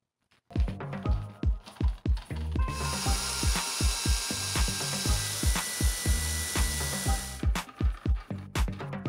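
A power drill drives a screw into the wooden base of a cat tree, the close, loud motor whirring steadily for several seconds after a quick series of short ratcheting bursts.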